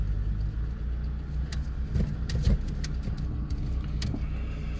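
A car idles steadily during a driving lesson as reverse gear is engaged, a low continuous engine rumble with a few light clicks and knocks from the gear change inside the cabin.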